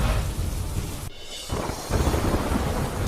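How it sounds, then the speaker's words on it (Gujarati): Gentle rain falls across the city of Navsari as a steady, dense hiss of wash with a brief dip in the middle and no voices. "નવસારી શહેરના Dhanera point, circuit house, ઇટાવડા, station road સહિત અનેક વિસ્તારોમાં ધીમી ધારે વરસાદ."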